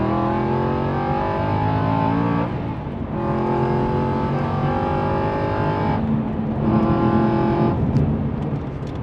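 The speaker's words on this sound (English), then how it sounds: "Some people don't like that raw, bassy, powerful exhaust note" A V8 Aston Martin Vantage exhaust booms with a raw, bassy, powerful note, the engine revving up through gears in long rising pulls, loud and close with no talk over it.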